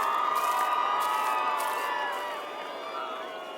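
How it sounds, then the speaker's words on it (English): A group of people yelling loudly in welcome, a dense crowd of shouts and cheers that stays steady throughout and fades slightly toward the end. "Most of the group welcomed me with a loud yelling."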